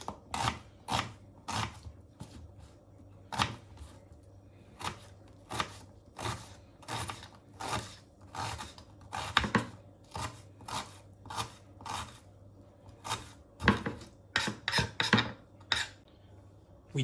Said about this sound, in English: we chop onion into small pieces